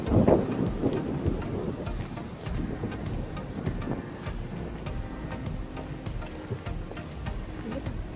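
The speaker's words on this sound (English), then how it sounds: "it is very windy today" Strong wind rushes and buffets outdoors, steady and close with rumbling gusts and a damp hiss like light rain, and no talking.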